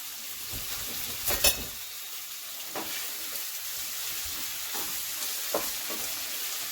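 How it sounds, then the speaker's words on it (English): Onions and carrots sizzle gently in a pan, a faint steady hiss with a few brief stirring scrapes and clinks, without talk. "we just want to get those onions and carrots cooked and tender enough"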